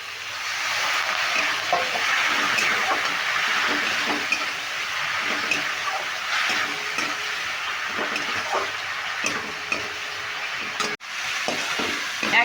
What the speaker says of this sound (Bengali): এবার মশলাটাকে খুব আলুর সঙ্গে ভালো করে কষিয়ে নেব